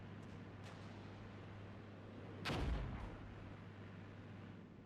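One distant gunshot or artillery blast goes off in the Armored Brigade war game. It lands as a single sharp boom over a low, steady hum, followed by a short rumble as it fades.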